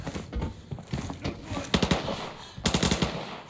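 Automatic gunfire in the shooter game Arena Breakout, likely an RPK, rattles off in rapid bursts around the 1.7 and 2.7 second marks, loud and close, with scattered shots and faint background voices between them.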